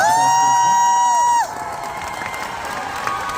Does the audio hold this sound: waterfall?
no